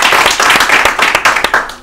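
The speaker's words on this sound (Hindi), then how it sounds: "हम आपकी तारीफ में इनसे कहेंगे कि एक बार तालियां और बजा" A studio audience clapping at an Urdu-language quiz programme, loud close applause of many hands in an even, steady patter with no voices.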